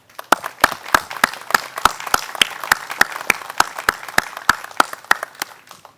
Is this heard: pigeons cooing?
no